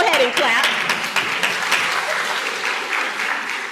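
An audience at a keynote event bursts into steady, dense applause, loud and close, with many hands clapping together throughout.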